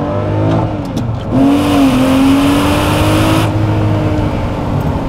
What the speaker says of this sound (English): we'll just try that acceleration again